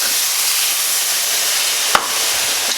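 Whole milk hits a hot pan over medium heat and gives off a loud, steady steaming hiss, broken once by a sharp tap of a whisk against the pan.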